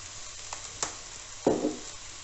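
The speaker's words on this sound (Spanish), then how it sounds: "Vamos moviendo para que el colorcito del sillao se integre bien" Fried rice with chicken and soy sauce is stirred in a hot pan, giving a few brief scraping strokes over a faint, steady sizzle.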